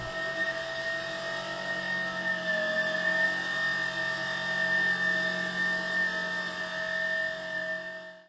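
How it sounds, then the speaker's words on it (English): A loud, steady machine drone with high whining tones, like a floor sanding machine running continuously at close range. "I had these on when sanding the floor, as it otherwise sounds like this"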